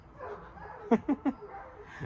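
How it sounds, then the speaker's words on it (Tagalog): A dog whimpers and cries in three short, high yelps close together, fairly clear over a quiet room background. "Umiyak na yung aso."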